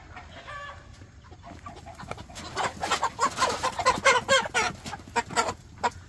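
Several chickens cluck and squawk in agitated bursts inside a coop, close by, growing louder and more frantic after a quieter start.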